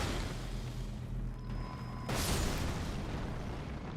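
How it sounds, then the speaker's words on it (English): A sudden explosion bursts out in Elden Ring, a sharp broadband blast that cuts through a low ambient hum and then trails off in a lingering rumble. "Weird that that explosion doesn't open up this invisible wall."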